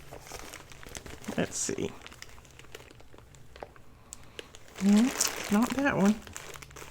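Crinkling and rustling of paper trim scraps being dug through in a box, close and intermittent, swelling into a louder crumpling burst near the end while someone talks quietly.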